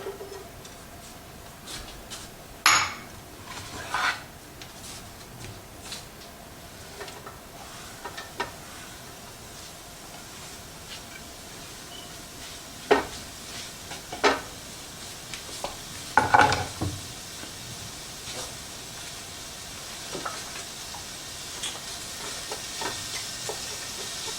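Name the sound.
peppers and onions frying in olive oil in a pan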